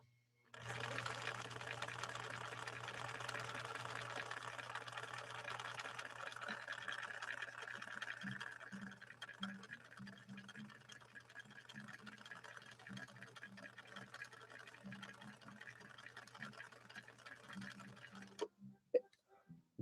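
A vintage 1961 Viking sewing machine stitches German-made Sulky 40 wt rayon embroidery thread, running in a steady close whir with rhythmic ticking, then slowing to intermittent clicks before stopping near the end.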